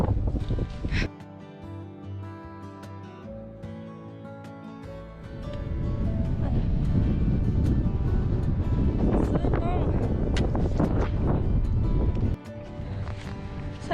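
Strong wind blows on a grey day by a lake during a solo mini trek, a rumbling roar that swells midway, stays loud, then eases near the end.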